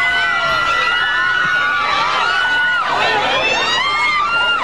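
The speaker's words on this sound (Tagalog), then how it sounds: "walang tigil na sa pag-iyaw ang mga manonood" Filipino fans shout and cheer nonstop from packed stadium bleachers, a loud, dense, unbroken roar of voices with shrill whoops rising above it.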